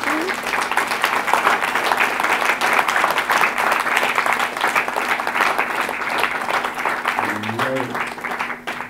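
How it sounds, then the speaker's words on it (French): An audience gives sustained, vigorous applause for speaker Anaïs Simon after a philosophy talk on cultural rights and human rights, with a voice briefly cutting in near the end as the clapping fades. "il nous reste à l'applaudir très très très fort."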